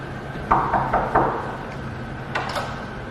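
Several sharp knocks rap on a wooden apartment door, a quick cluster of three or four followed by a couple of fainter taps, heard alone in a quiet room.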